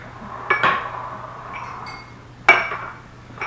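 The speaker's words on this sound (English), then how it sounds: "Oh my god, that was loud. It was like clink clink." Dishes and utensils clink sharply while pecan pie is being made in a home kitchen: two loud, bright metallic clatters about two seconds apart, each ringing briefly over a quiet background.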